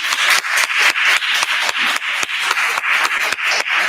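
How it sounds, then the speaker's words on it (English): An audience applauds speakers at a Medicare, Medicaid and SNAP benefits information session, dense steady clapping from many hands filling the room, close and continuous. "let's give a round of applause for our speakers"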